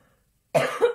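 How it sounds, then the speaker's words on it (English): A single short cough from someone recovering from illness, close and abrupt after silence, with a second harsher burst right behind it. "so excuse my little coughing fit."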